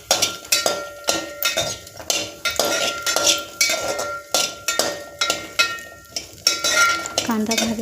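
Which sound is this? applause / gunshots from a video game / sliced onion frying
sliced onion frying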